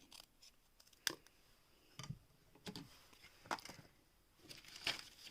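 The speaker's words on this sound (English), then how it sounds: "I'm going to cut 2 pieces of scrap chipboard" Scissors snip through scrap chipboard in a series of distinct, crisp cuts spaced about a second apart, close up and fairly quiet with no voices.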